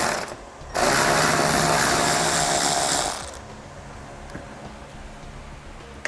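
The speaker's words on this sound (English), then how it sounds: "We're using a 7mm socket." A power tool with a 7mm socket drives out bumper screws on a 2017 GMC Acadia, giving one loud high whirring burst of about two and a half seconds, then a quiet background with faint clicks and no talk.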